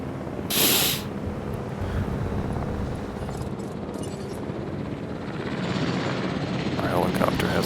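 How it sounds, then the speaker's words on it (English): A helicopter in the dinosaur park game Jurassic World Evolution whirs with a steady rotor drone, joined by a sharp spray-like burst early on, heard under game ambience. "Helicopter hasn't tranquilized that second one yet"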